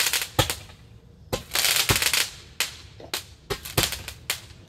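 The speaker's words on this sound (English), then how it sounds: "Oh, yeah, firework." Fireworks burst outdoors as a string of sharp, crackling bangs, some single and some in quick clusters, each fading into brief hissing crackle.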